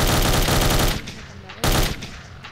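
Two loud bursts of rapid gunfire from a zombie video game, the first lasting about a second, a short pause, then a second shorter burst, each trailing off into echo.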